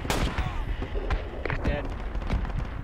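Gunfire crackles in a Project Reality tactical shooter match, a string of sharp close shots and bursts mixed with battle noise while players talk over it.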